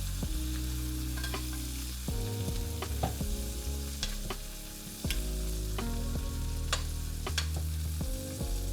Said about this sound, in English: now it's time to give your steak a nice bath in this garlic herb.